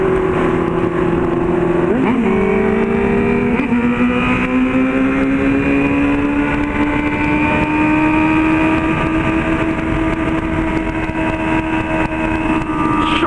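A Honda Hornet motorcycle fitted with a test exhaust, revving and riding along at speed, a loud sustained engine note climbing in pitch with a couple of quick gear changes near the start.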